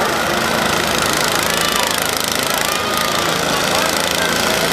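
Lawn mower engines roar together at a lawnmower demolition derby at a Portage County, Ohio fair in 2009, forming a loud, dense, continuous mechanical drone with a steady knocking rumble and no breaks.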